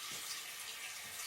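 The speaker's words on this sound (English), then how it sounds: "Pour a little water in there." Water poured into a pan while making warm chocolate pudding, a steady faint hissing trickle without a break.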